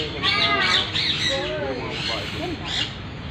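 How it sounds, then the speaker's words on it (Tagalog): A myna, a talking bird kept at a zoo in the Ninoy Aquino Parks and Wildlife Center, gives harsh squawking calls close by, with people talking excitedly over and around it. "Myna. Talking bird."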